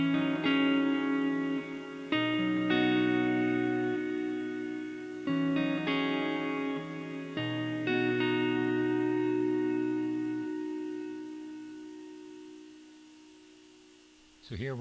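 Played through a Strymon NightSky reverb pedal set to a sparse texture with increased length, a handful of sustained chords ring out and overlap, each leaving a long, shimmering tail that slowly fades to near silence, with no voices.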